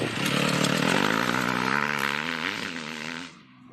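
Motorcycle engine revving hard as the bike accelerates out of a flat corner, a loud, steady roar with rising harmonics that holds for over three seconds, then cuts off abruptly near the end.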